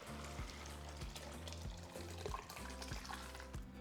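Beans and broth poured into a pot for charro beans, a steady liquid splash and slosh running throughout at moderate level, with faint periodic knocks underneath.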